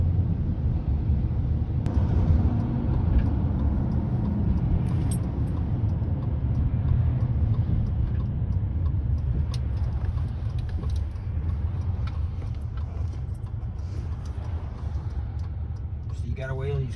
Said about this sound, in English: So you gotta wait till these cars go by for sure.